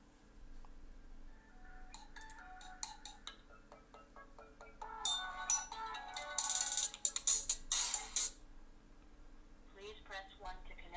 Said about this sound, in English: See if he answers this phone.